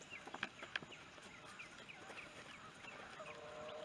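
Hens and roosters clucking softly in short, scattered bursts, faint and close together over a low background hum.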